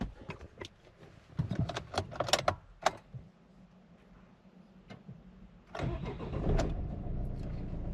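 Suzuki Grand Vitara 1.9 DDiS with an F9Q diesel engine: keys jangle and clicks come first, then the starter cranks briefly and the engine catches, settling into a steady, close idle with no talking.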